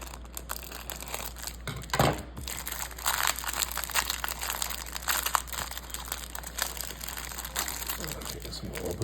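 Wrapper of a 1980s baseball card rack pack being torn open, close and loud, with crinkling, crackling plastic rustles and tearing bursts that continue throughout.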